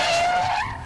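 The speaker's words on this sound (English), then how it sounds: "Let's see if it handbrakes well." A car skids through a handbrake turn, a loud continuous tyre squeal with a steady high whine over engine rumble, fading slightly toward the end.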